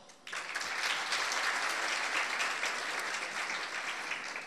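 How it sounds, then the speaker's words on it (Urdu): An audience at a speaking competition bursts into applause as a judge is introduced, clapping starting abruptly and holding at an even, full level for several seconds with no talk over it. "آپ سب کی بھرپور تالیوں میں ام فروا."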